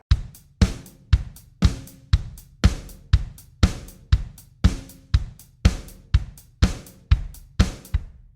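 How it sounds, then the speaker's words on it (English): A steady drum groove with kick and a sharp snare hitting on the backbeat, evenly spaced hits repeating for several bars, close and punchy with no talking. "what we're playing is on every 2nd and 4th beat, we're hitting our snare"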